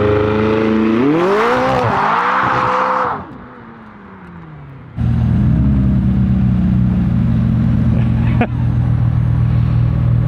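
A McLaren 600LT or a built Porsche 911 Turbo revs hard and squeals its tires while warming them up, loud and close, then the noise drops to a brief lull before a steady, heavy engine drone returns.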